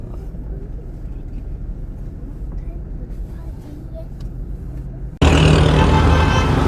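A car drives into a factory, its engine and road rumble a steady low drone heard from inside the cabin, then a sudden much louder, brighter burst of noise breaks in near the end.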